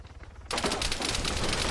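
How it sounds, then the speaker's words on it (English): Sustained automatic gunfire in the military shooter Arma 3, a dense rapid burst that starts abruptly after a quieter stretch and rattles on loudly. "I can hear shooting over there"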